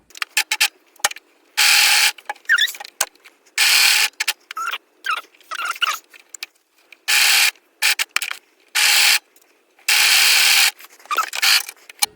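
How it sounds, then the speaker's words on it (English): A serger stitches a sleeve to an armhole on a child's top, running in short bursts of rapid mechanical whirring separated by quiet pauses and faint handling clicks. "I think I'm going to be brave and serge this."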